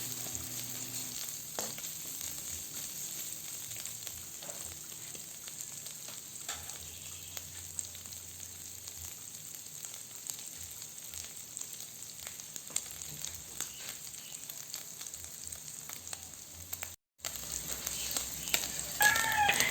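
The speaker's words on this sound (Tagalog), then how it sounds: "gisayin lang natin yan ng 2 minuto" Pinakbet vegetables sizzle and fry steadily in a pan after salt is added, with occasional scrapes and clinks of stirring over a continuous close crackle.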